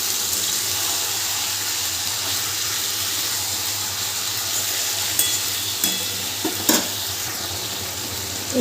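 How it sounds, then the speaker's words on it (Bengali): Marinated chicken stirred and fried in a pan after browned onions, a constant loud sizzle with occasional spoon scrapes and clanks toward the end. "খুব ভালো করে মিশিয়ে নেব।"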